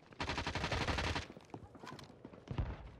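Gunfire in Call of Duty: Warzone on Rebirth Island: a dense, loud automatic burst of about a second, then a few scattered single shots and thuds.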